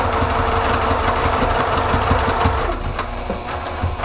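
A sewing machine back stitches through soft minky fabric on a weighted heart, a close, busy mechanical whirring with rapid needle ticks that eases slightly near the end.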